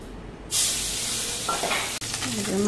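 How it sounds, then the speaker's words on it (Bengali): Pabda fish frying in a pan, with a sudden burst of loud hissing sizzle as the fish hits the oil, then a steady close crackle with a brief stirring knock. "পাবদা মাছটা ভেজে নি।"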